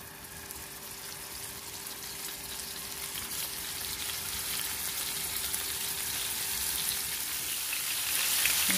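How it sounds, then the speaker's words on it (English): Seasoned short ribs sear in an oiled pan for Coke-braised short ribs, giving off a steady, dense sizzle that holds evenly and swells slightly toward the end. "now we're going to give it a nice brown color and just sear it on both"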